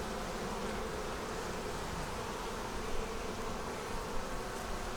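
Honey bees droning around an opened hive frame loaded with brood, a dense steady buzz heard up close and at moderate level, with no talking over it.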